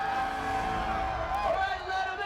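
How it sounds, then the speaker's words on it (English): A fan convention crowd screams and cheers together in a loud, sustained roar with overlapping shouts and whoops that fill the whole moment. "On the count of 3, I want the loudest FanCon scream you can do."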